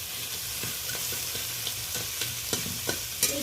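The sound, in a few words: small crabs stirred and frying with onion and turmeric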